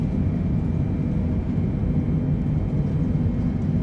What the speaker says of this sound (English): Reverse thrust. Manual braking.